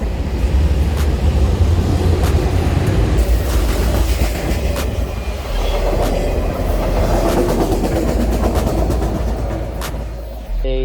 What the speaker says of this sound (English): Oh no, here comes the train, guys.